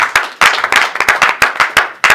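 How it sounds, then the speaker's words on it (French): A church congregation claps together in loud, sharp, rhythmic unison, about ten beats in just over two seconds, close and strong with no talk over it. "Applaudissons le Seigneur"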